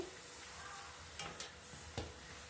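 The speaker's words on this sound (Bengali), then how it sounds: "বাবার জন্য খালি লুচিটা ভেজে নিচ্ছি" Luchi frying in hot oil, a faint continuous sizzle with a few sharp ladle or utensil clicks, quiet and close.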